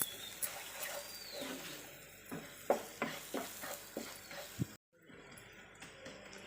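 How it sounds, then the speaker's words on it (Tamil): Spicy egg pepper masala being sautéed in a pan, with a quiet sizzle under repeated scraping stirs and clinks of the spoon, then a brief drop to silence before the stirring picks up again. "ஒரு 2 நிமிஷம் நல்லா வதக்கிக்கலாம்."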